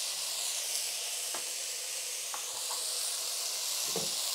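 Rice frying in a pan as ginger paste and garlic paste go in for khichuri, a soft continuous sizzle and hiss with a few faint clinks and scrapes, quiet and steady, no voices.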